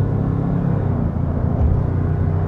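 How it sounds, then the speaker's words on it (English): A Land Rover Defender accelerates from 50 to 100, its engine a loud, steady, continuous rumble with a faint rise in intensity toward the end. "We can also do acceleration here, 50 to 100."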